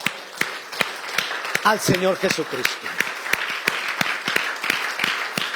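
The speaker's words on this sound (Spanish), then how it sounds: "Denle un aplauso" A church congregation claps in a steady, rhythmic beat, sharp regular hand claps running throughout while someone speaks over them partway through.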